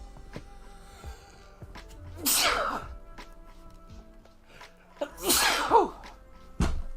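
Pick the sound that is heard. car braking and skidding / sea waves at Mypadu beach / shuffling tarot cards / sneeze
sneeze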